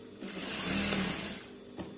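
A sewing machine stitches a half-inch seam on a lined blouse, one steady, fairly loud whirring run of about a second and a half that winds down, followed by a single soft knock.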